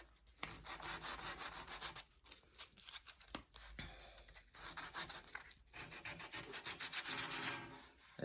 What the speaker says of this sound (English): So I need to sand more in the middle than I do on the edges to bring the whole thing down.